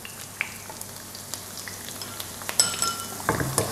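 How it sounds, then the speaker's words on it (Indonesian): Petai (stink beans) frying briefly in oil in a pan, a soft steady sizzle with sharp crackles and pops, and louder stirring clinks near the end, no talking. "ini udah gue goreng sebentar ya, jangan lama-lama, paling 2 menit ya"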